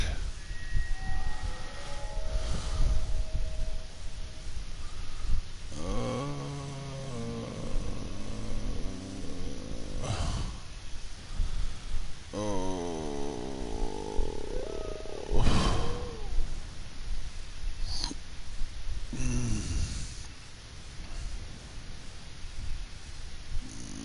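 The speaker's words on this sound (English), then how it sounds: "Fucking wolves howling in the dark in the night." Wolves howl in the dark night of the World of Tanks video game, several long wavering cries rising and falling one after another over a steady low rumble of game ambience.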